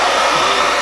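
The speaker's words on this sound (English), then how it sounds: "When in doubt, blow dry it out." Hair dryer blowing continuously at close range, used in a candy-making kitchen on a gummy mixture, a loud steady whoosh with a constant motor whine and no pauses.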